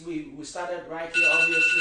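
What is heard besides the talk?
phone alarm going off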